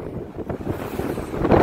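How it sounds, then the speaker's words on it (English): Gusty outdoor wind buffets the microphone, rumbling low and rising in strength toward the end, with no voices. "But it's kind of windy!"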